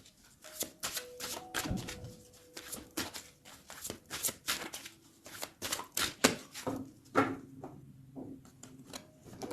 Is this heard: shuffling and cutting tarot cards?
yes